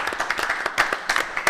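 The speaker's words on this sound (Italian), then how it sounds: "fatemi un applauso ragazzi." A small group claps for a cycling team guest on a studio show, a short burst of scattered, uneven hand claps at moderate closeness with no one talking.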